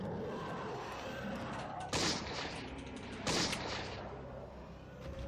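Two loud gunshots from the video game Eternal Darkness: Sanity's Requiem, spaced over a second apart, each a sharp crack with a short tail over a steady low game ambience.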